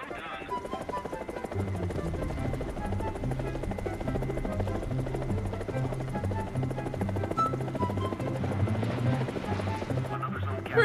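In the War Thunder video game, a helicopter gives off a steady, rhythmic rotor thump that grows slightly louder toward the end, with a player's voice heard over it.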